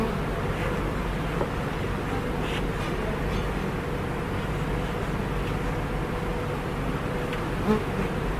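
Honey bees drone in a dense, continuous buzz around an opened beehive during an inspection, the swarm sound steady and close throughout.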